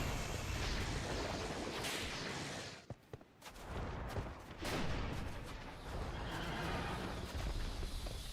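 A flying horse in a video game lets out a loud neigh amid dense game noise and bursts like gunfire, with a short lull midway before the racket resumes.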